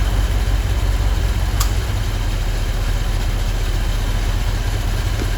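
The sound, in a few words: car engine idling as AC compressor clutch engages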